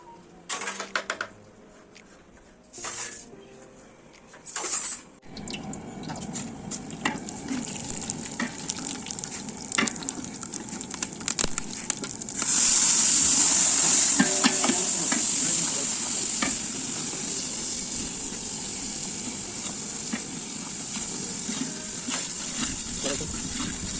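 Spices tempering in hot oil in a pan while Maggi and tea are cooked, with quiet stirring and clinks at first, then a sudden loud sizzle that settles into a steady hiss.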